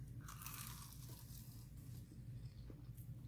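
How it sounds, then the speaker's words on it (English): A fried Mughlai paratha gives a faint, close crunch when bitten, with brief crisp crackles over a low background hum and no talking. "Do you hear that noise? The crunch?"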